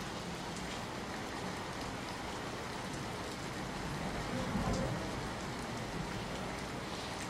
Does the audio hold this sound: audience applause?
no